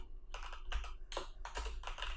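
Keys clatter on a computer keyboard in uneven bursts of quick strokes, close and fairly quiet, with short pauses between runs of typing and no voices.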